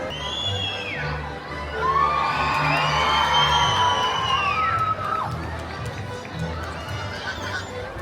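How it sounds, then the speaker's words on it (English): At Disneyland Paris, a crowd screams and cheers as Stitch appears. Excited shrieks, many of them children's voices, rise together and swell loudly in the middle before easing off. "what's all the screaming about? It's Stitch"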